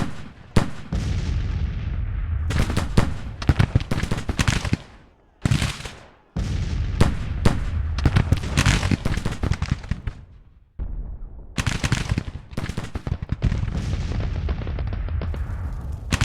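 Artillery and gunfire rage in a Civil War strategy video game, with dense crackling rifle volleys and heavy booming cannon blasts, loud and nearly continuous apart from a few brief lulls.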